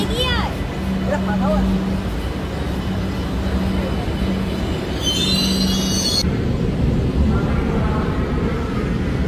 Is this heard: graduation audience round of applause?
no